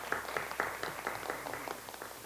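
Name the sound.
audience applause at event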